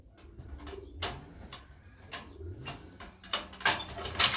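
Pigeons coo softly inside a loft as it is opened, their low throaty calls mixed with rustling, wing flutters and scattered knocks of wood nearby.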